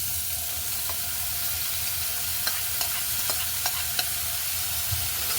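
Chopped onions frying in a pan, a constant sizzle with several sharp scrapes and clicks of a utensil stirring them, close up and with no talking.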